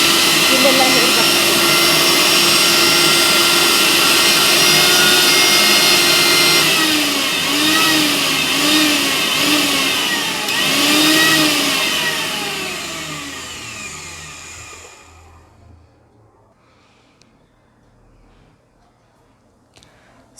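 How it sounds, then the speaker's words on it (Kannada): Loud, close whine of a Prestige Endura Pro 1000W mixer grinder running steadily, with wavering pitch in the middle as the load shifts, then winding down and fading into near silence for the last few seconds. "ಆನ್ ಮಾಡಿ ನೋಡೋಣ ಮಿಕ್ಸಿ"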